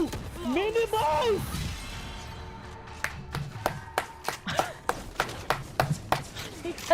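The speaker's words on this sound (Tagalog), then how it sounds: "Narinig yung palakpak!" Scattered claps from an esports audience at a Valorant Challengers APAC group-stage match, sharp irregular hits at moderate distance that come after a stretch of casters talking.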